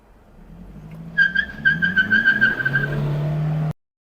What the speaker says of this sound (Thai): เดี๋ยวเรามาออกตัวกันที่เกียร์หนึ่งครับ